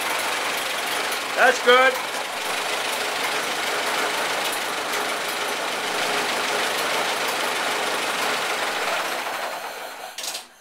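A 1931 Ford Model A, not driven for about sixty years, idles close by with a steady, even engine drone throughout while people talk briefly early on, and the running sound fades at the end.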